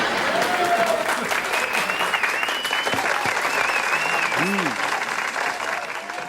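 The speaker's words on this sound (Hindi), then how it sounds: "रोहन, डॉली, पॉली वगैरह के लिए जोरदार तालियां।" A studio audience on a television talent show breaks into loud sustained applause, dense clapping throughout with cheers and a few voices and tones rising over it.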